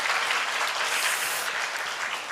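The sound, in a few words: audience applause of encouragement in auditorium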